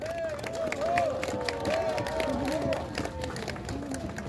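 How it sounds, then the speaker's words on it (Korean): A crowd at an outdoor rally applauds and cheers as a speaker comes up to the podium, steady clapping under a loud announcer's voice and a squealing microphone. "올라오시는 동안 우렁찬 박수로 환영해 드리겠습니다."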